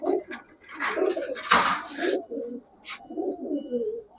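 Male pigeons kept in a cage coo close by, with sharp flutters or scuffles mixed in and someone talking over the birds throughout.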